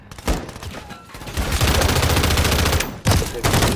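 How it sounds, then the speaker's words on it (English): Gunfire from players in a Modern Warfare multiplayer match, bursts of rapid automatic shots with a sustained stretch of continuous firing, loud and close. "They shooting at each other."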